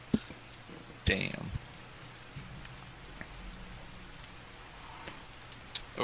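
Rain ambience behind a Dungeons & Dragons tabletop session, a soft continuous patter under the scene, with a few brief louder bursts and short stretches of people talking.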